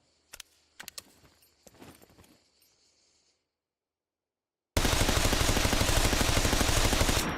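M16 rifle fire in a survival video game: a few sharp scattered shots with clicks first, then after a silent gap a dense, loud, continuous full-auto burst that fills the last few seconds.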